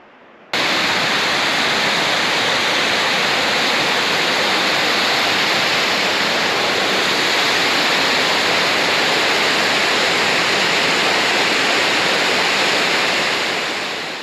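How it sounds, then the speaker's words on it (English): Long Creek Falls, a waterfall on the Appalachian Trail in Georgia, roars as a loud, steady broadband rush that begins abruptly and holds without pause, with no voices over it. "Long Creek Falls. Here it is."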